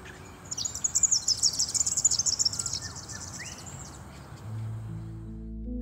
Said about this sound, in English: if you're wondering what their high-pitched call sounds like,